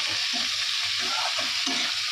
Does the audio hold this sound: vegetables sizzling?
yes